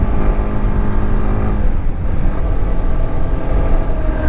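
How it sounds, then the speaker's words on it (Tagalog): A Honda CB150X motorcycle is ridden near Sampaloc, Tanay, Rizal, giving a loud, continuous low engine drone mixed with heavy wind rush throughout, with no pauses. "Gamit na natin itong bagong motor natin, itong Honda CB150X"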